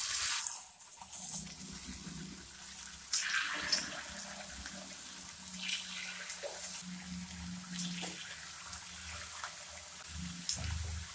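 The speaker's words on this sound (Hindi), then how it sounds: "चिप्स तलने के लिए मैं तेल गरम कर रही हूँ।" Thin potato chip slices fry in hot oil on a kitchen stove, giving a steady, broad sizzle and bubbling hiss with occasional crackles, close and continuous, without talking.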